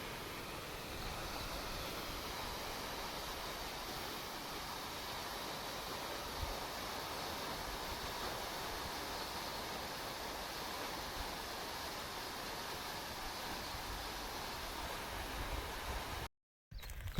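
Water gushes steadily from a village borewell pipe after the motor starts, a constant broad rushing roar that holds throughout with a brief dropout near the end.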